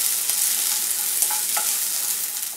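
Onions browning in a pan for Maharashtrian masala rice, a loud continuous sizzle with scraping stirring strokes throughout, close and without talk.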